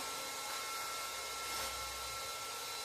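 A Tuxing 4500 psi PCP air gun compressor runs on a ranch, making a steady, loud, continuous whine and hum that stays even from start to finish.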